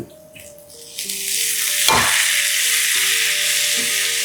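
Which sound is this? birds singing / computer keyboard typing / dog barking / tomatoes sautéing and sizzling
tomatoes sautéing and sizzling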